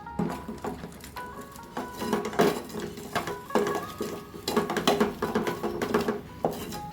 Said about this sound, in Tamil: இப்போ இதை அப்படியே வந்து நல்லா கிண்டி விட்டுக்கணும்.